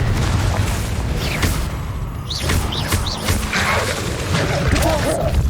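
Hogwarts Legacy Confringo blasting spells burst with heavy booms and crashing impacts, layered with whooshing magic effects in a loud, busy fight.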